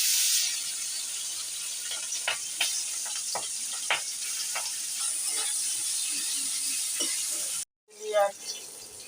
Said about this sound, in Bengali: পটল আর কুন্দুলি লবণ আর হলুদ মাখিয়ে নিচ্ছি। এখন এটা ভাজবো।